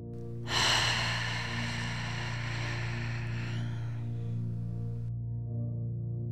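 A long, steady inhalation through the nose during a seated yoga class, close and clearly audible, drawn out over several seconds over a faint steady background hum.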